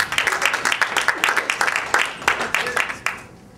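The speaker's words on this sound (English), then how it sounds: "Give a round of applause for Scott Kadrilk," Comedy-club audience applauding a comedian as he takes the stage, fairly sparse and distinctly rhythmic clapping from a modest crowd that fades out toward the end.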